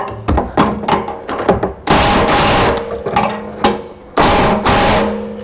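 Tightening 13 mm bolts on the exhaust of a Porsche Boxster 981 GTS sports exhaust, heard as a series of close, loud metallic thunks and ratcheting clicks in uneven bursts with brief pauses.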